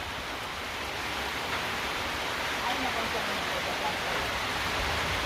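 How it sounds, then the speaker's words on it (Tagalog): Rain falls steadily at a picnic grove in San Vicente, Cabiao, a constant broadband hiss of drops that stays even and fairly loud throughout. "It's raining here."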